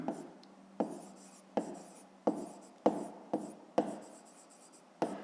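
A pen writing by hand on paper while a maths exercise is worked out, with short scratchy strokes in quick bursts at regular intervals, close and fairly quiet.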